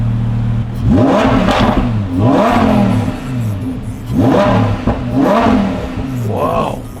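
A Lamborghini sports car engine revs up hard several times in bursts, roaring and falling back between each blip, close and loud.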